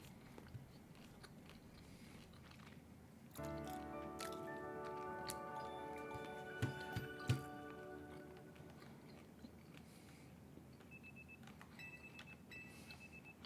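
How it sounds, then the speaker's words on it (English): Alarm clock ringing in Pokémon Legends: Z-A, a bright repeating electronic tone with sustained ringing harmonics that starts abruptly a few seconds in and runs for several seconds over faint background game ambience. "Gotta love the noise of alarm clocks."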